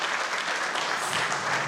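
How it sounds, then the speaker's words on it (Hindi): An audience at a performance of a Gita dance drama claps loudly and continuously, a dense, even wash of applause with no voices rising above it. "जोरदार तालियों से इनका अभिनंदन करें।"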